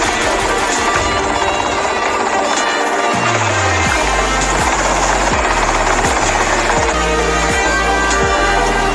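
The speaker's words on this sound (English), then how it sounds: "That's them in the chopper." Helicopter in GTA Vice City hovering close and loud, its steady whirring thrum running throughout alongside game music with a repeating bass pattern.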